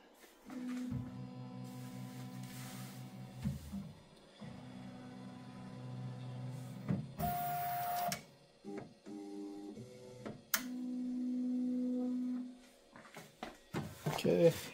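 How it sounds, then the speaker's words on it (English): A Qidi Q1 Pro 3D printer homing, with steady stepper-motor whines in sustained runs, short buzzing moves and brief clicks, close and moderately loud, with no talking. "Okay, we are back at the printer and we will home it."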